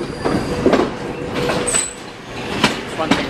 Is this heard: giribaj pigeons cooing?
no